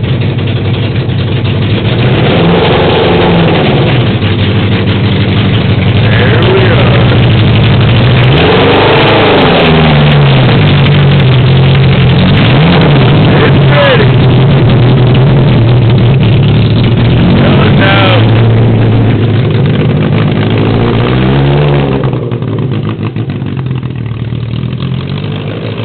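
A 2005 Yamaha Raptor 350 quad fitted with a Honda CBR 600 engine runs loudly and steadily close by, idling with repeated revs that rise and fall throughout, with no talking.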